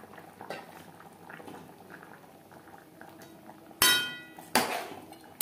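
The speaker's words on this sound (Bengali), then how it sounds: "গ্রেভি ফুটে ওঠা পর্যন্ত অপেক্ষা করব" Gravy for a fish and potato curry bubbling gently in a pot, soft quiet burbling with two sharp clinks of a utensil against the pot near the end.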